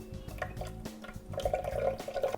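Water pours into a blender holding cheese bread batter ingredients, a close, uneven trickle and splash that swells louder toward the end, with no voices.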